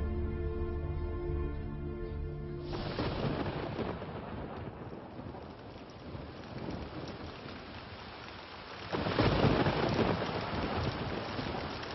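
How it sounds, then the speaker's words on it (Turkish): Steady spring rain pours throughout with rolling thunder, a louder rumble surging near the end; a tonal musical passage fades out in the first seconds before the storm takes over. "Bahar yağmuru çabuk kesilir."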